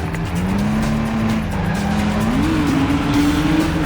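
Loud, sustained tire squeal as a car pulls an e-brake 180 turn in the PS2 stunt driving game Stuntman, the engine droning underneath and its pitch sliding upward through the skid.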